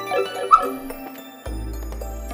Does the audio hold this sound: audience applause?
no